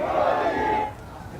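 A political rally crowd chants Modi in unison, a loud massed vocal shout sustained for under a second before fading into background murmur.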